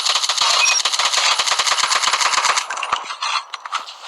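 An AK rifle fires in rapid automatic bursts in Call of Duty Mobile, a dense, loud rattle of close shots for about two and a half seconds, then a few shorter bursts.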